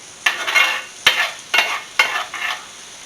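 Onion sautéing in a pan, four distinct stirring passes each starting with a sharp tap and followed by a rush of sizzle, evenly spaced and close.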